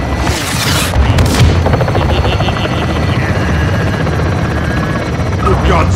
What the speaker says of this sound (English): We got a chopper now